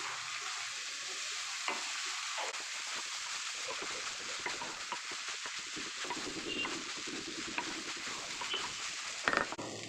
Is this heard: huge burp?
no